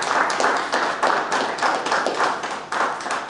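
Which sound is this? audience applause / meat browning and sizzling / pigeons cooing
audience applause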